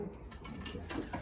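Pigeons coo softly in a loft where nesting birds raising youngsters roam freely, producing low, throaty, overlapping calls at a faint, steady level.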